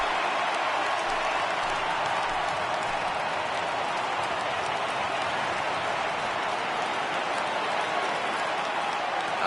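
A baseball stadium crowd in MLB 18 The Show, San Francisco at the LA Dodgers, roars in a steady, loud, unbroken wall of cheering and applause that swells slightly as fans rise for a full count.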